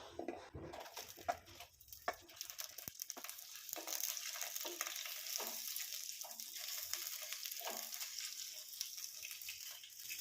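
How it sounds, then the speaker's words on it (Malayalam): Okra frying and wilting in a pan for a Kerala-style vendakka curry, a steady close sizzle with faint stirring scrapes throughout. "വെണ്ടക്കായ വാട്ടിയെടുക്കണം"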